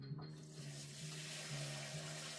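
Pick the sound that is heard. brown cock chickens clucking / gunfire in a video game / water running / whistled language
water running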